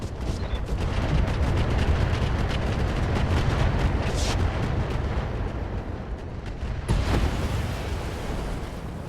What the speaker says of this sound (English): we're gonna shoot the AoE Rocket 10s. And we're gonna hopefully catch some spare units in the blast